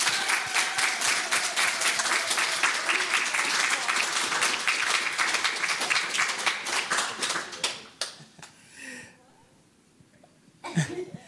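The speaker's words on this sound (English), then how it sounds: "So could everyone please give them a huge round of applause?" An audience applauds after a lecture panel, dense sustained clapping filling the room for about eight seconds before thinning out and fading to scattered claps, followed by a brief thump near the end.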